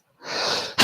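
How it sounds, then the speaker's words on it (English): A single close sneeze from a person during a tai chi session, a breathy intake rising into a short sharp burst at the end. "A smooth sneeze."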